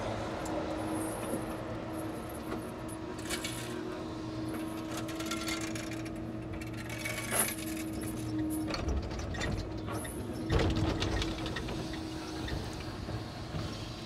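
A ratchet hoist tightens on a truck cab, close repeated metallic clicking over a steady mechanical background, with a heavier clunk and rattle near the end.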